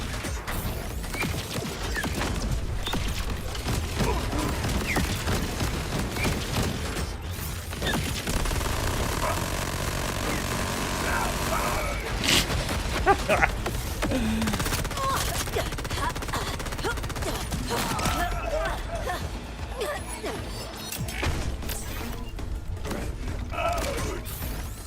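Pistol gunfire in the video game Borderlands 4, mixed into a dense, constant wall of combat noise with rapid mechanical clatter and shots running throughout at steady loudness; someone talks faintly now and then.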